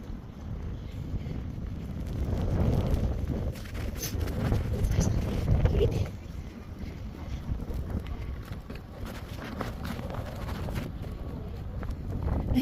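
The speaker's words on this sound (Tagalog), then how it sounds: "may snow na, mahangin pa." Strong wind during snowfall in Karlskrona, Sweden buffets the microphone in steady rumbling gusts, swelling louder for a few seconds before easing back to a constant roar.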